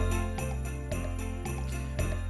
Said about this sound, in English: It's called Sleigh Bells.